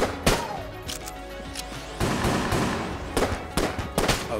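Sniper enemies fire in the Enter the Gungeon video game, loud sharp gunshots cracking in irregular bursts over a busy bed of game music and effects.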